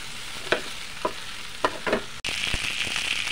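Beef innards being mixed in a frying pan, with a few scattered scraping stirs over a steady sizzle that turns louder and more continuous partway through.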